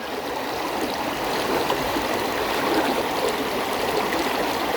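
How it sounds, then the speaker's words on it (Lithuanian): A small stream flows steadily nearby, a continuous gentle babble and trickle of water with no voices. "Čia va, srovelė tokia faina."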